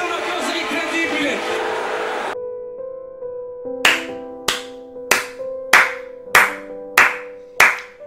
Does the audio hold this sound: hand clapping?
yes